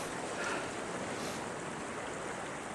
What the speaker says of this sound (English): the water right now is flowing straight through the cube, and a little bit is coming out into this side shunt pipes